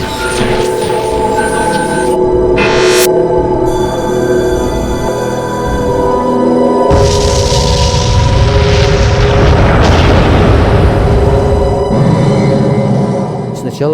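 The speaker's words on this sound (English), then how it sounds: "The blast went off at 2 p.m." A large explosion at a tank test site, with tanks positioned 200 meters from the blast, booms loudly and then rumbles on in a long roiling roar, with a voice speaking over the opening.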